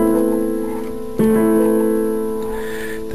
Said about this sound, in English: Now an arpeggio is basically a chord played from one note at a time.